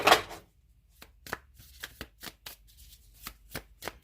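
Oracle cards are shuffled and handled close by: an opening riffle, then a run of quick, crisp slaps and flicks at an uneven pace in a quiet room.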